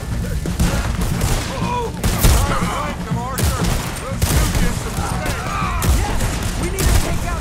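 Cannon blasts and rapid gunfire during a battle against an army in Red Dead Redemption 2, with dense overlapping shots and booms filling the scene continuously, loud and busy throughout.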